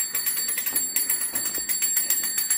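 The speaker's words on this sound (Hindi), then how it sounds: "वरना इसकी घंटी नहीं बजती" A small bicycle bell rings in a village, a rapid series of bright metallic dings repeating steadily throughout, fairly close and fairly quiet.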